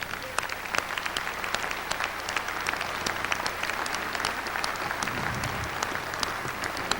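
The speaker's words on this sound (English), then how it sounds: "Let's give a round of applause for our good friend" Audience applause at the 1988 World Dairy Expo, sustained even clapping from a large crowd in a hall, loud and steady for the whole stretch, with no voices over it.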